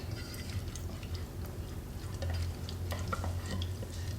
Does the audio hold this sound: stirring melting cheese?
yes